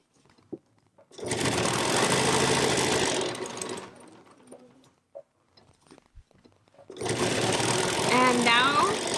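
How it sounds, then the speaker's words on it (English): A sewing machine stitches a fabric face mask in two loud, steady whirring runs separated by a pause with small handling noises. "I'm going to sew right on top of that stitching and back stitch just a few stitches"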